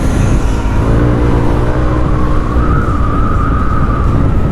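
A car engine with a swapped-in RB5 roars loudly and close, the revs sliding slightly as the RPM sags and wavers, with no talk.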